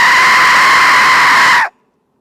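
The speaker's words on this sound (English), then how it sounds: "Let's give the death whistle a try, eh?" A death whistle is blown in one long, loud, piercing shriek that sounds like a scream and holds steady for about a second and a half before cutting off sharply into silence.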